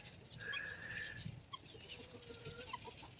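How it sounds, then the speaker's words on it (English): Guinea fowl and a Polish chicken clucking and calling in a farmyard, with a sustained mid-pitched squawk and scattered short clucks over steady background noise, no talking. "And there's the guinea fowl."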